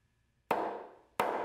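Two sharp wooden knocks about a second apart, a plug being tapped into a deck board with a mallet, each ringing briefly.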